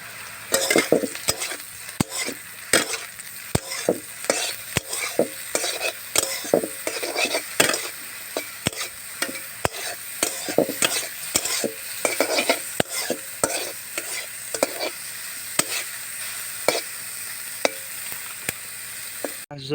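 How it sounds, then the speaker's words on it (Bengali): Mushrooms fry in the oil left over from frying potatoes, with a steady close sizzle and frequent sharp scrapes and clinks of a spatula stirring against a pan, repeating irregularly throughout with no talking. "আলু ভেজে রাখা তেলে মাশরুমগুলি দিয়ে দেবো।"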